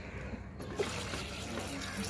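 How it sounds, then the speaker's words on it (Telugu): Water is poured into a pot to boil peanuts, making a faint, steady trickle and slosh close by in a quiet kitchen. "నీళ్ళు పోసుకున్నాం"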